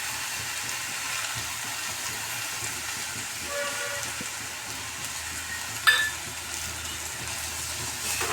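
Fenugreek greens (methi bhaji) sautéing in a pan, a steady broad sizzle that runs evenly throughout with one brief clink near the end, with no voices.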